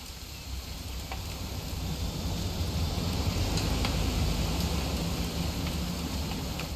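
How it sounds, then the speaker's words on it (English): Steady, dense video game rainfall hisses continuously, a constant wash of falling drops with no voices, from What Remains of Edith Finch. "It's gonna rain the whole weekend, isn't it?"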